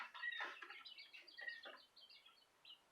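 A quail chick, about 1.5 weeks old and alone in a bin, peeps and chirps repeatedly in quick, high cries, close and fairly faint, with brief pauses between bursts.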